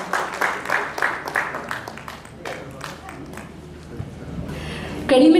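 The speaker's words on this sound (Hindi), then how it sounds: "जोरदार तालियां वीरपाल कौर जी के लिए" An audience at a Women's Day honor ceremony claps for an award recipient, with a burst of many hands clapping at the start that thins into scattered claps, then a voice joins briefly near the end.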